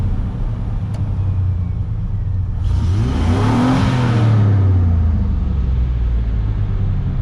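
After a fuel system overhaul, an OBS truck engine churns, then catches and rises into a rumbling, steady idle, heard up close with no talking.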